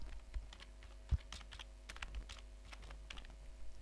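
Someone types C++ code on a computer keyboard, producing soft, rapid, irregular key clicks with one firmer thump, close by and without speech over a faint low hum.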